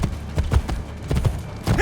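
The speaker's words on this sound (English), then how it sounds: "Faster to travel by horse." Horse hooves clip-clop at a quick gallop through an Assassin's Creed game world, a steady rhythmic run of thudding beats up close, with no talk.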